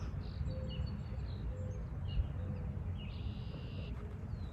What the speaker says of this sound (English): listening to the birds, watching the birds just kind of flying around, flying overhead every now and then. I'm sure you can hear them.